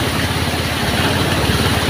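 The engine of a motorcycle tricycle strains in second gear through floodwater, giving a loud, steady low idle-like drone with a rapid pulsing rumble.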